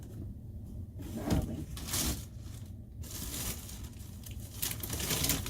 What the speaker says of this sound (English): the paper makes a lot of noise